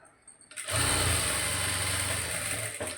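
A sewing machine runs in one quick continuous burst as it stitches the lining along a blouse neckline, starting abruptly, whirring steadily and close for about two seconds, then stopping.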